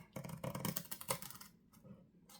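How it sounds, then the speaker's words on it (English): Craft knife cutting gently through the paper pages of a Readers Digest book being made into a journal, quick faint scratchy strokes close by, then quiet. "I'm just taking my craft knife and I'm just going to cut very gently"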